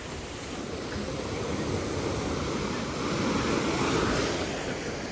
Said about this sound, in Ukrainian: Це не басейн, це не річка, це море.